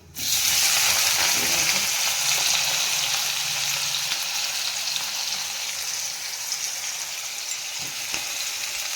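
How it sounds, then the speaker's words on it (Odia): Cumin seeds dropped into hot oil burst into a loud, hissing sizzle that starts abruptly and then settles into steady frying crackle, close up with no speech. "ଦେଖନ୍ତୁ ତେଲ ପଡ଼ିଗଲା, ତାପରେ ଜିରା ପକାଇଦେବା"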